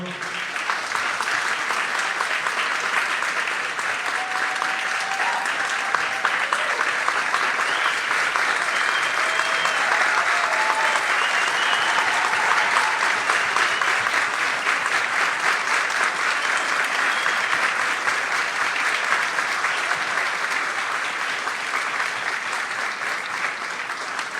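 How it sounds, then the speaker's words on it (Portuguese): Sustained applause from a large audience at a conference opening ceremony, dense and even clapping that holds at a steady loud level for over twenty seconds without a break. "Nos despedimos con otro aplauso."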